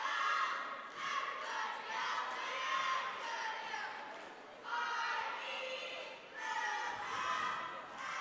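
Tenasket cheerleaders shouting in unison at a high school basketball playoff game, rhythmic chanted bursts with brief pauses between them, moderately distant over light crowd noise in a gym.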